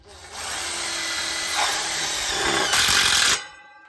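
A power drill whirs steadily for about three seconds, its pitch shifting as it drives a screw through an aluminium pool fence bracket, then the motor stops abruptly.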